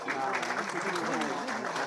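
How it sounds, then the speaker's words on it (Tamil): Audience applause fills a gathering, a steady broadband clatter of many hands running the full length, with a voice speaking over it. "அவருக்கு ஒரு பெரிய கைத்தட்டல் கொடுக்கலாம்"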